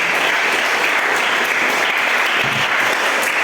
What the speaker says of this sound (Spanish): Denle un aplauso fuerte a nuestro Señor Jesucristo en esta mañana.